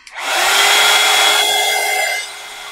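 A hair dryer blasts to dry paint on a scary Halloween display piece made from mudlarking finds, a steady loud whoosh for about two seconds before the airflow cuts off.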